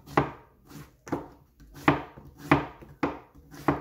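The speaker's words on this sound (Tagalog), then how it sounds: "nasa inyo kung paano ninyo hiwain yung pipino nyo" Knife chopping cucumber on a board for kinilaw, six crisp, evenly spaced cuts with a steady rhythm, close and distinct with no talking.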